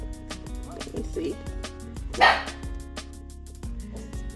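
A dog barks briefly and fairly loud at close range over indoor background sound, with someone talking nearby about fitting headphones into a small bag.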